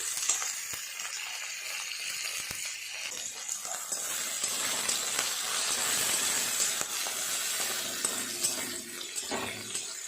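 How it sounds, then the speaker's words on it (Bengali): A spice mix frying in a pan, with a steady hiss and sizzle close by, faint scraping as it is stirred, and no talk. "মশলাটা কতটা ভাজা হলো দেখি।"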